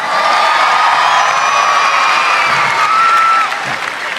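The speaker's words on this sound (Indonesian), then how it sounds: "Boleh tepuk tangan yang paling meriah" Audience applause and cheering at a Christmas celebration evening, a loud steady wash of clapping with whoops sustained for a few seconds before easing off.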